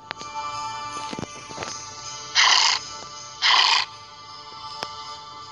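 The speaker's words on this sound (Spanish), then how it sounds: "aquí podemos observar el pony, el caballo del príncipe de Clash Royale acá" Two short bright neighing whinnies from the pony, the prince's horse in a Clash Royale–themed Clash of Clans Christmas update, ring out one after another over a quiet game background, each lasting about half a second.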